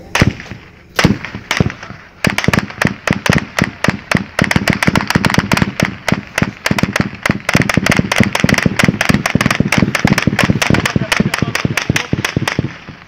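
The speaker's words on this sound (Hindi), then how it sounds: "फायरिंग हो रही है।" Gunfire at a housing society in Islamabad: loud, sharp reports in rapid bursts, a few isolated shots at first, then a dense, nearly continuous volley of cracks for several seconds, near and with no talk.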